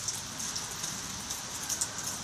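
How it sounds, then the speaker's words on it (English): Early morning rain falls steadily outdoors near a dripping marquee, a dense continuous hiss with scattered close drops and no talking. "Don't know if you can hear the rain."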